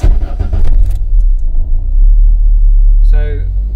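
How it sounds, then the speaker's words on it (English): Inside a Renault 9 with the clutch pressed, the engine idles with a loud low rumble while a gear lever is worked and clunks without engaging; a brief higher mechanical whine appears near the end. "So clutch in, can't get into gear. Yeah, it's not engaging."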